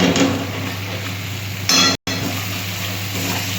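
Masala with cumin powder and tomato puree is fried and stirred over low flame for vegetarian ghugni, giving a close, steady low sizzle with occasional spoon scrapes and clinks against the pan.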